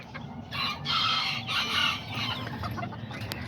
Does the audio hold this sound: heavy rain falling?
no